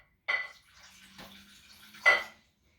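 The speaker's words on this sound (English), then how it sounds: "Let's add some water." Water is poured into a bowl of soup mixture in two short splashy bursts separated by a pause, heard close up with no talking.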